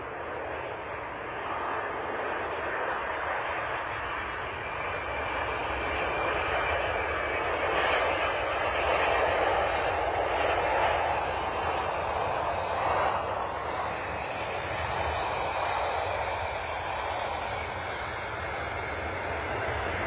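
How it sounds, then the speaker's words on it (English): A military plane passes at London Stansted airport, its loud, steady engine roar swelling to a peak midway and then easing off but still sustained at the end, with no talking. "That was a beast, and what a great noise it's made as well. If you like your military planes, hopefully you enjoyed that."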